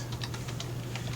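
Rapid, close keystrokes on a computer keyboard, a quick even patter of clicks over a steady background hum with no one speaking.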